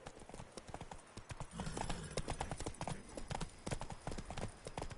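Hooves gallop on a horse in the video game Witcher 3 Blood and Wine, a rapid, steady clip-clop that carries on throughout with faint background sounds.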